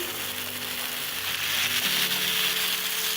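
Chicken and chopped green onions fry in a hot pan while being stirred, making a loud, continuous close sizzle with faint utensil scrapes and a low background hum.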